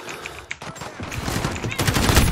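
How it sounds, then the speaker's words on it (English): Gunfire in Call of Duty: Modern Warfare, starting as scattered faint shots and building into dense, louder rapid firing toward the end, with some voice mixed in. "my teammate's shooting over here"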